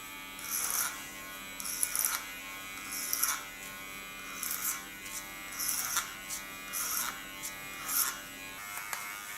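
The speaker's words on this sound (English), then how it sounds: "Take my light Kiona clipper and connect the lines to each other" A light Kiona electric hair clipper trims hair in short, repeated buzzing passes, about six bursts separated by brief pauses, close and fairly quiet over a low background hum.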